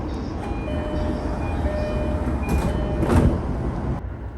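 A JR East train running on track near Higashi-Ome toward Ome makes a steady loud rumble heard from inside, with faint tonal whines from the motors and a brief clatter of wheels over rail joints near the end.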